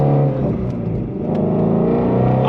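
A 2020 Shelby GT350R's engine revs hard on throttle, a loud, sustained, close rumbling roar with rising and falling pitch that carries on steadily with no talk.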